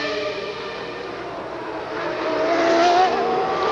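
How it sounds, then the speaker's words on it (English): The MTV Simtech Formula One race car from the 1994 Canadian Grand Prix drones steadily as it enters the pits, with a high engine whine rising slightly and growing a bit louder toward the end. "as David Brabham brings the MTV Simtech car into the pits."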